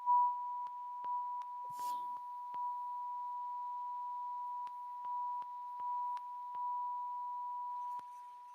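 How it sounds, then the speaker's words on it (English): Loud electronic beeping, a steady pure tone held almost continuously with brief clicks and small interruptions along the way, no voices. "they have this big beeping noise. I don't know if you guys can hear that."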